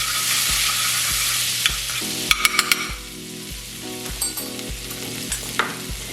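Garlic sautéing in butter in a pan, a steady loud sizzle with a spoon scraping and clinking against the pan in quick taps, no speech.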